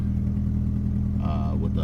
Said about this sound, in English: So it has an exhaust leak right there, and that's what that loud clacking noise is